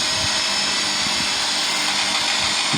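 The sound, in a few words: Samsung Ecobubble washing machine spinning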